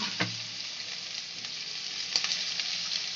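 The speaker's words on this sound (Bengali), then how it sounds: "আর সবজিগুলো আমরা বেশি ফ্রাই করব না।" Vegetables stir-fry briefly for egg hakka noodles, giving a dense, even sizzle that fills the pan, with occasional soft scrapes of stirring underneath and no talking.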